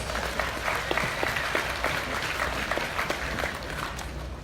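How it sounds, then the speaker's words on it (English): Dense, steady applause from an audience at a livestock show's grand drive, sustained clapping from many hands filling the room throughout, with faint crowd murmur beneath. "Please give Connor another big round of applause."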